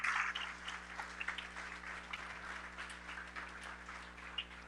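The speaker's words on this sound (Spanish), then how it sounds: "Dale un aplauso al Señor." A church congregation applauds together, a steady wash of clapping that fills the whole stretch at moderate level with no talking over it.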